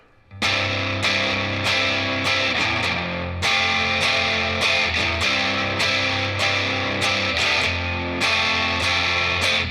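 Distorted electric guitar chords strummed in a steady rhythmic pattern, loud and continuous with brief breaks between phrases.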